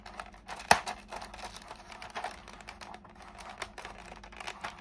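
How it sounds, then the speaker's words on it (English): Crinkling plastic blister pack from a Robocop model kit is handled up close, with one sharp snip of scissors early on, then quieter rustling and small clicks. "I'm going to use scissors just to release it."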